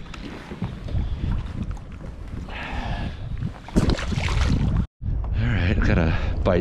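Strong wind gusting across open water during kayak fishing on Western Long Island Sound, a loud continuous buffeting roar against the microphone with splashy water texture, briefly cutting out once near the end.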